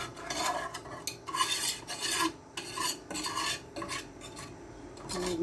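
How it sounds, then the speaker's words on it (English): A whisk scrapes and rasps against a pan while mixing butter and flour for a white sauce, in quick irregular strokes with short pauses, close and clear with no talk. "I'm using a whisk, and I am mixing my butter and my flour together."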